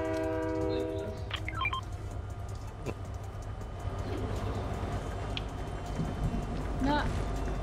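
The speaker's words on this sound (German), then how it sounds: "Der Zug kommt." A train pulls in during a Fortnite match: drawn-out horn tones sound early, over a steady rolling rumble and busy game ambience, with faint voices underneath.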